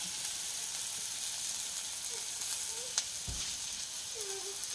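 Onions sautéing in a pan with salt added make a soft, continuous sizzle with a few faint clicks and light stirring touches.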